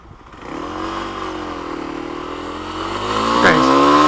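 A Kawasaki KLX300 motorcycle with revised gearing runs steadily and climbs in pitch as it revs and shifts up, with a brief dip at a gear change before the engine pulls louder near the end.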